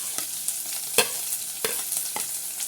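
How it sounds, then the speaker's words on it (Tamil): Chopped large onions go into hot oil for rava kichadi: a soft, steady sizzle with a few scattered clicks of a spoon stirring against the pan, quiet and close. "இப்போ 2 வெங்காயம் எடுத்து வச்சுருக்கேன், அதையும் போட்டுடலாம்"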